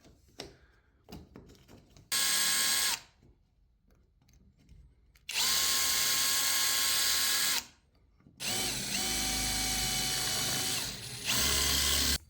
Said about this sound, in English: So we have to drill that out too